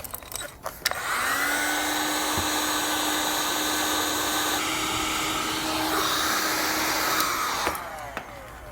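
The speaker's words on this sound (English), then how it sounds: "I'll grab my heat gun and seal up the ends" A heat gun sealing the ends of a wire butt connector while installing a Demco Air Force One braking system on a 2013 Jeep Wrangler, a loud steady blowing whir that starts after a few clicks and runs for about seven seconds.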